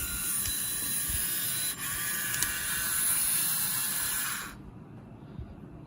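LEGO Technic 42131 Cat D11 bulldozer gearbox running in fourth gear, a steady close mechanical whir with fine ratcheting ticks and a brief catch, cutting off near the end.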